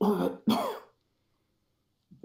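A voice imitates a creature's laboured breathing and coughing in two short rasping bursts, close and loud, then falls silent before a faint sound at the end.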